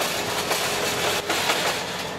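A new Massey Ferguson tractor drives along a road after leaving a field, giving a steady, close broadband engine and rolling noise with a slight rhythmic rattle, no talk.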